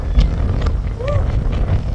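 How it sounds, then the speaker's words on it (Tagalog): Strong wind gusts buffet the microphone at the Statue of Liberty in New York City, a steady low roar close by, with voices talking over it. "Ang lakas ng hangin"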